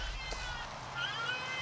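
A cat meows in a brief, drawn-out call, fairly close and clear against a low steady background, with no speech over it.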